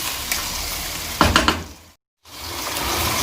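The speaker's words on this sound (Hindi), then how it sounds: "धनिया के पत्ते शामिल करूँगी और इसको भूनेंगे" Korma with coriander leaves fries for a biryani: a close, steady sizzle broken by a burst of stirring scrapes, then a brief total silence before the sizzle resumes.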